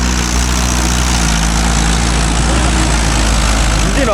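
A JCB 3DX backhoe loader's diesel engine idles close by, a deep steady throb with a low rumbling hum that stays even throughout and rises slightly near the end.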